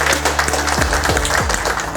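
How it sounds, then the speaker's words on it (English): Loud, continuous clapping from a small group after a kitchen cooking session in an apprenticeship program, with a low steady hum underneath. "Big round of applause"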